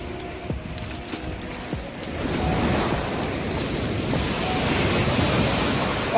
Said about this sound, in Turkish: Dalga geliyor, geliyor, geliyor, geliyor.